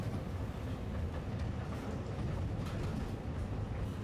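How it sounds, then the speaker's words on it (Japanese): A forest railway train climbing a mountain rumbles steadily along the tracks, a constant low, heavy roar with faint rhythmic clatter and no voices. "ゆっくりと進む列車のリズムに身を任せていると"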